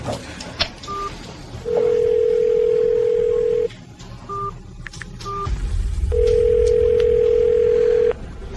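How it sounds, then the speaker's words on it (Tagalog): A telephone ringback tone over a line: two long, steady electronic rings separated by a pause, with a few short beeps and some background rumble. "Sagutin mo ang telepono, Chin Zhao."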